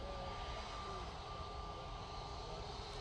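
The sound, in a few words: airliner taxiing at Manchester Airport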